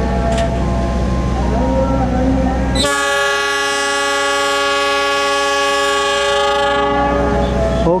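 The Papandayan passenger train bound for Jakarta rumbles along, then a loud, sustained horn blares for several seconds before cutting off.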